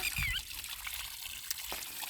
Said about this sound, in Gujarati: જો ભાઈ કેવું પાણી ઉડે છે